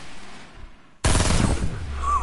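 Sudden loud gunfire from the video game Corb Lightning, a sharp burst breaking a quiet moment and trailing into rapid rattling shots.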